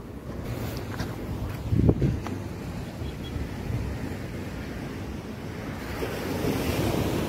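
Ocean waves roll and break on a beach with steady surf noise, a louder crash early on, and wind buffeting the microphone throughout.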